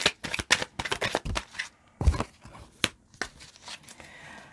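Tarot cards riffled and shuffled by hand, a quick run of crisp papery flutters and snaps close up, pausing briefly before a few more slaps as a card is drawn and laid down.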